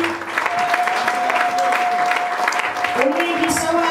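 Dense applause from a church congregation, many hands clapping steadily from start to end while voices call out and a sustained tone carries under the crowd.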